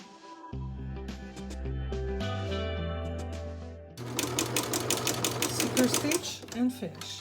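A sewing machine stitches a neckline facing. The stitching runs fast and rhythmic at close range, over a sustained musical background.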